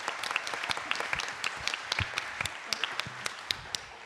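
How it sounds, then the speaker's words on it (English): Applause at a science comedy show: a crowd clapping steadily, with sharp separate claps standing out from a softer wash, moderately loud and unbroken by voices. "let's give a huge round of applause"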